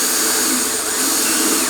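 A step drill bit, the Christmas-tree kind, bores through plastic on a towing rig build, giving a loud continuous high-pitched whine and grind with no pauses or talk.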